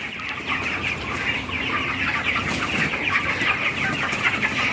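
Young chickens on a village farm cluck and peep steadily at feeding time, a dense, busy chorus of many birds close by with no speech.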